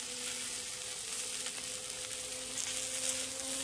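Grilled pork neck fries on a cast iron pan in a steady, crackling sizzle, close but fairly quiet, with fine popping spatter through the hiss and no voices.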